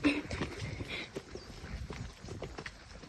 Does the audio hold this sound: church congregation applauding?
no